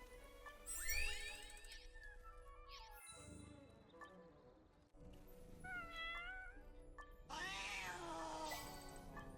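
Several loud, drawn-out cat meows and caterwauls in the video game Ni no Kuni: Cross Worlds, repeating at close range over game music tones, with no talking.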